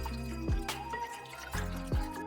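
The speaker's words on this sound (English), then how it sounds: "then we add our wine" Wine is poured into a pan holding sugar for poaching pears, making a couple of close, gurgling glugs over a soft liquid trickle.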